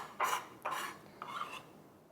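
Roughly chopped cilantro drops into a bowl in three soft, dull knocks and rustles spaced about half a second apart, close up in a quiet kitchen while shrimp ceviche is being made.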